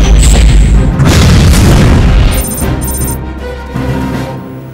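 Heavy weapon blasts from a sci-fi asteroid-defence movie trailer: a loud, booming barrage of explosive fire for over two seconds, then a dropping rumble with bright whooshing effects trailing off.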